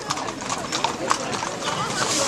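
Horses' hooves clip-clop on hard ground at an outdoor horse blessing in Stara Loka, Slovenia, a scattered, uneven clatter from several animals under a loud amplified speech and crowd murmur.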